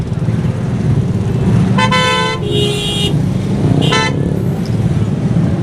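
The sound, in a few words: traffic jam with car horns on GT Road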